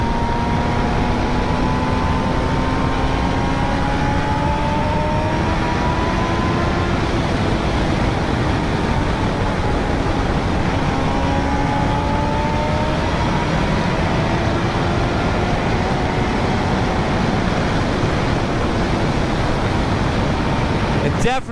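A high-revving engine wails near its 16,000 RPM limiter, a loud, sustained mechanical whine with pitch sweeping up and down continuously, heard close up for over twenty seconds.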